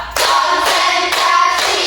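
A classroom of students claps together in counted rhythm, four loud, sharp group bursts spaced roughly half a second apart, with no voices over them.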